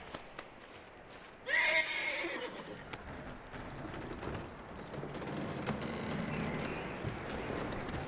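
A loud horse whinny from the video game Red Dead Redemption 2 rings out near the start, followed by a steady bed of rumbling hooves and ambient noise.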